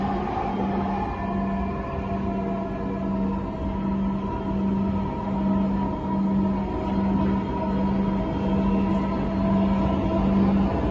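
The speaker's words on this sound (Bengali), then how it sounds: "This train is bound for Uttara Uttor." A Dhaka metro rail train runs toward Uttara North, a steady interior rumble with a sustained low tonal hum throughout, heard from inside the carriage.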